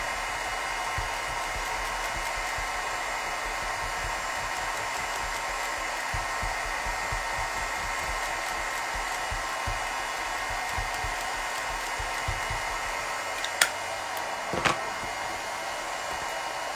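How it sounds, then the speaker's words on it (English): A heat gun blows a continuous, even whooshing roar while melting embossing powder on a handmade card, with a couple of small clicks and taps near the end. "in the back, I'm going to turn on the heat gun"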